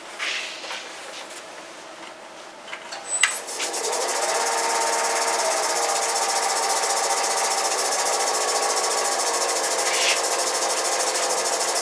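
A wood lathe spins a peppermill blank at about 690-700 RPM, a steady broadband rasping hiss of cutting starting a few seconds in after quieter scraping, then continuing evenly and loudly to the end.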